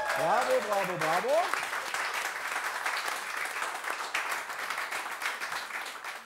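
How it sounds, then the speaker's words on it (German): Loud, sustained audience applause fills a live stage show, steady clapping from a large crowd running the whole time, with a voice speaking over it at the start. "Großer Applaus, wie immer, für unser kongeniales Publikum."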